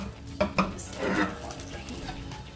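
A Maggi noodle omelette is turned out of a pan onto a plate after the stove is switched off: two quick metallic clanks, then a short scraping clatter of pan against plate, with a quiet room hum between.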